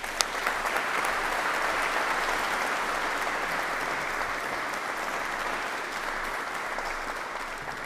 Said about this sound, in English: please welcome Lieutenant General Risch with a round of applause